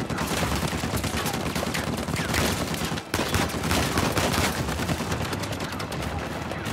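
Uncharted 4 video game gunfire during a truck chase: dense, continuous rapid shots crackle loudly for the whole stretch, with only a momentary break near the middle.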